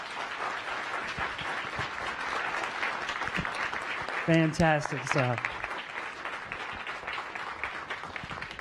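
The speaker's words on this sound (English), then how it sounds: "Let's give these two one more round of applause." Audience applause at a science cafe event in Raleigh, continuous clapping throughout, with a voice speaking briefly over it midway.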